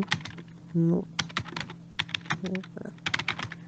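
Quick, uneven clicks of a computer keyboard as Bengali text is typed into an online job application form, close and fairly crisp, with bursts of keystrokes interrupted by brief pauses and a voice speaking over them.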